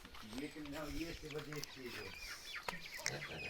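Soft clucking from a broiler chicken indoors mixed with speech nearby, plus scattered clicks and rustles in a quiet indoor space.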